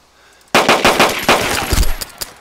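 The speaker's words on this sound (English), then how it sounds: "There's a guy at the back gate. Yeah, he's shooting at me." Sudden burst of automatic gunfire in the DayZ video game after half a second of near silence, with rapid loud shots cracking in quick succession and fading into scattered echoing reports.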